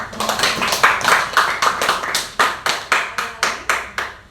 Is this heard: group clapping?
yes